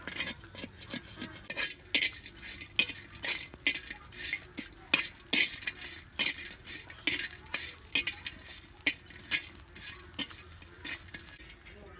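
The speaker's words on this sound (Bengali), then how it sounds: "ফুটকি ভাজা হয়ে গেছে এখন আমি নামে নিব" Dried fish fried in mustard oil in a pan, stirred with a utensil: repeated sharp scraping clicks and taps over a faint, steady hiss, close and moderately loud, no talking.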